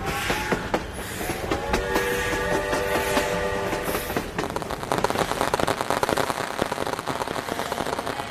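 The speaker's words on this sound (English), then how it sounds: "The train has arrived." A train rolls in along the track with rhythmic clickety-clack of wheels over rail joints and a brief horn or whistle tone, steady and moderately close, without talk.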